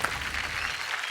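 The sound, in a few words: audience applauding loudly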